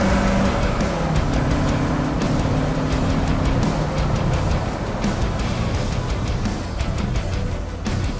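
Alfa Romeo Spyder accelerating along a race track's main straight, a steady loud engine drone with shifting pitch bands filling the whole stretch, no talk over it.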